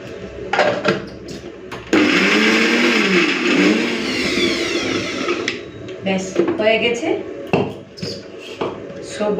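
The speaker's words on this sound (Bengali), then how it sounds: "এই যে জল ছাড়া বাঁধাকপিটাকে বেটে নিচ্ছি" A kitchen mixer grinder whirs loudly for a few seconds grinding cabbage without water, then stops, with a voice talking before and after amid clinks of the jar.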